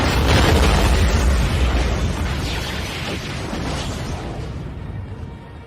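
A large explosion from the 2004 zombie film Dawn of the Dead: a loud, deep boom that rolls into a long rumbling, crackling decay lasting several seconds, with no talking.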